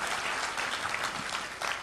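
An audience at a poetry recitation claps in a dense, continuous burst of applause that lasts about two seconds at steady loudness.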